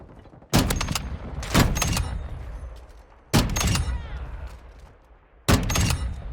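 Bolt-action sniper rifle fired in a shooting video game: four loud, heavy shots at uneven intervals, each a sharp crack with a long booming tail, and no voices.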